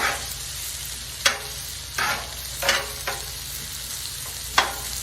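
Onions and peppers cooking on a Blackstone flat-top griddle, with a constant background sizzle broken by several sharp scrapes and taps of a spatula turning the vegetables, close and unaccompanied by talk.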